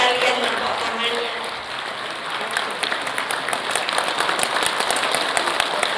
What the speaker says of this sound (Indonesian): Nah, ini aja kan kalian tepuk tangannya.